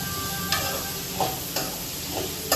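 Kurma sautéing in a pan sizzles steadily, with a few sharp scrapes of stirring at regular intervals.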